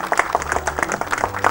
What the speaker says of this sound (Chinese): 大家鼓掌鼓励一下。